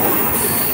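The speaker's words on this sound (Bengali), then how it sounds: "এখন ক্যানেলের মধ্যে দিয়ে ট্রেনটা যাচ্ছে" A train on the Hisar to Jammu route passes through a tunnel, giving a loud, enclosed roar with a high metallic squeal from the wheels, heard from on board and steady throughout the short stretch.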